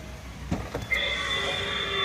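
A door-open chime sounds after a couple of soft clicks, a steady electronic tone ringing on inside a quiet car.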